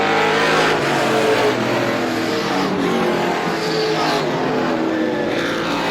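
Outlaw race cars roar along the backstretch at Star Speedway, a dense, loud, sustained engine drone with shifting revs and pass-by swells throughout, without voices.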